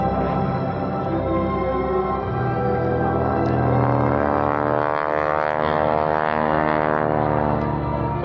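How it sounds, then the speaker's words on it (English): A Stearman biplane with a 450-horsepower engine performs airshow aerobatics, its propeller producing a loud, sustained rasping drone that shifts in pitch as the plane climbs and pushes over, heard continuously without talk. "That loud sound you hear the propeller making, believe it or not, is the tips of the propeller actually breaking the speed of sound."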